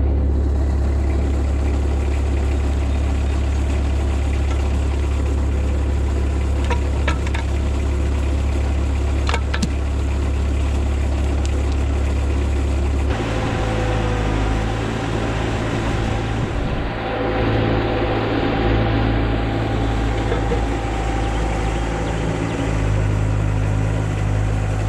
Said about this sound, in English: we'll just drive backwards out of the back ones